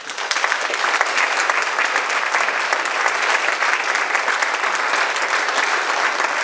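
Loud, sustained applause from an award-ceremony crowd greets a rapper and beatboxer, a dense even roar of clapping filling the room from start to finish.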